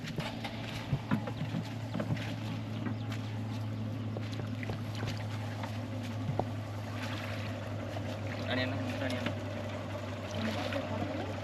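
A boat carrying passengers and motorbikes crosses the flooded Krishna River with a steady low engine hum and scattered knocks and clatters. It plays at moderate level under faint background voices.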